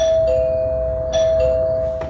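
A doorbell rings with a clear, sustained electronic chime tone that shifts pitch briefly a couple of times, loud and close with no talk.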